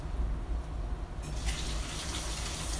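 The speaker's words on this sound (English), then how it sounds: "I'm gonna go wash off my hand" Tap water runs steadily while a hand is rinsed clean of dye or paint, a constant close splashing hiss that grows brighter and fuller partway through as the flow strengthens or the hand moves under it.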